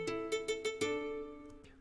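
Plucked guitar melody, played dry with no effects, for a dark trap-style sample: a handful of separate sustained notes picked in a slow line, clear and upfront with no voices.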